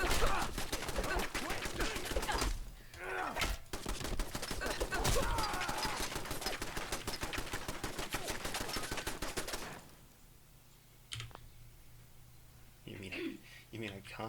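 Rapid bursts of automated turret gunfire rattle in a video game, dense loud volleys lasting several seconds, then stopping, with people talking over and after the shots.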